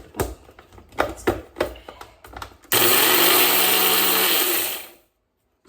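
A mixer grinder whirs loud and steady for about two seconds while grinding rice and lentils in a small jar, then winds down to silence, following a few soft clattering knocks.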